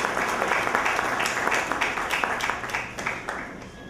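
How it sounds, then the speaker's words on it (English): Audience applause at the inauguration of a convention for cantonments in New Delhi, dense sustained clapping from a large crowd in a hall, gradually thinning toward the end. "I think we must clap for this."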